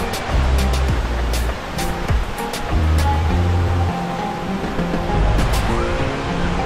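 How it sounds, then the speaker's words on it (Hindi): The Bhavali waterfall in Igatpuri roars as a loud, constant rush of water, dense and close throughout, with low rumbling beneath it. "इगतपुरी का एक बेहद खूबसूरत झरना"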